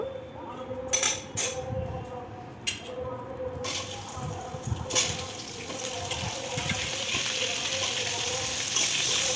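Mango pieces go into hot oil with fried dried red chillies in a wok while making mango pickle, bringing a rising, steady sizzle with clinks and bumps from utensils.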